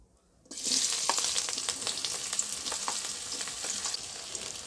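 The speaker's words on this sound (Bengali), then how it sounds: "এখন এই পেঁয়াজ এবং রসুনগুলোকে বাদামি কালার করে ভেজে নিব" Chopped onion and garlic hit hot oil in a wok and burst into a loud crackling sizzle after a brief quiet moment, then keep frying with steady popping and spitting, no voices.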